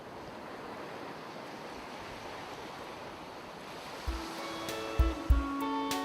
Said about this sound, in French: Ouais, il y a des super bonnes vagues.